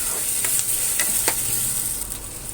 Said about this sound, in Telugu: అవి పచ్చివాసన పోయేంత వరకు వేయించుకోవాలి అల్లం పేస్ట్ని